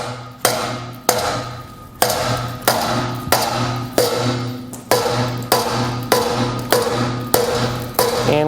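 A mallet strikes the stuck square connecting arm of a Demco tow bar about a dozen times in a steady rhythm, each close, loud metallic blow ringing briefly before the next.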